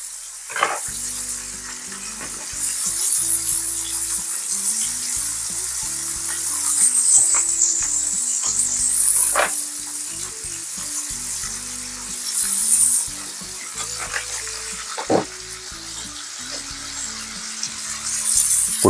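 Tilapia pan-searing in butter hisses and sizzles steadily up close, with occasional scraping and stirring clicks over the continuous frying crackle.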